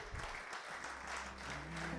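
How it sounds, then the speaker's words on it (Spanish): A church congregation applauds in praise, a faint, steady patter of many hands heard from a distance for a couple of seconds. "Le damos un aplauso al Señor"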